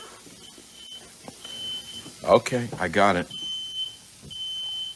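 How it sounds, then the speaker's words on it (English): A household smoke detector beeps in steady high repeated tones right after a kitchen cooking mishap, running through most of the clip while people talk over it. "My smoke detector went off."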